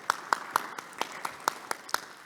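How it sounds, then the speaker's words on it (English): A conference audience claps for a speaker, about nine separate, evenly spaced claps spread over two seconds, sounding sparse like a small or distant crowd. "Round of applause, please."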